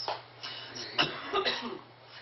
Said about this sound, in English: Getting over some bronchitis, so I got to keep stopping to cough here.